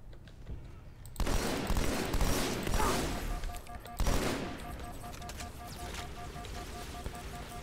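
Automatic weapon fire in the video game Halo 2 on legendary difficulty, loud bursts of rapid gunshots that start abruptly and come again after a short lull, followed by quieter game sounds and faint tones.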